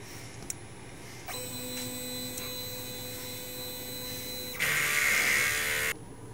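DTF printer running a strong head cleaning cycle, a steady mechanical hum with faint ticks, a tonal motor whine starting after a second, then a louder whirring burst near the end, no talk.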